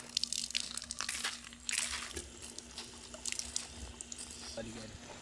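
Water from a bottle is poured into a pot of rice for nalli (bone marrow) biryani, making soft splashing and trickling with scattered crackly drips. The sound is faint and close, with some muffled talk in the background.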